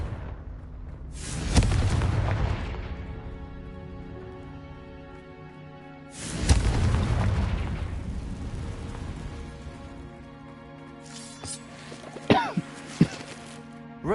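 Two heavy blasts from the Confringo explosion spell in the video game Hogwarts Legacy, each a booming burst that decays over several seconds, followed by a few smaller sharp impacts near the end.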